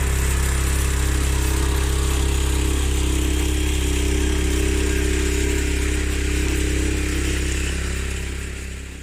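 A tractor with dual-mounted wheels pulls a trailer up a gentle slope, its loud, steady engine droning continuously with a deep low rumble, gradually easing off slightly toward the end.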